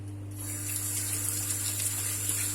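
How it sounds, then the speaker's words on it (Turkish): A kitchen tap runs steadily as hands are washed under it, a continuous close hiss of water over a low mechanical hum. "Elimi yıkamam lazım."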